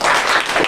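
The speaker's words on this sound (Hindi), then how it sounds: "ताली बजाओ" A classroom of children clapping together in applause, a dense, steady burst of hand claps filling the short moment, close and fairly loud with no talking.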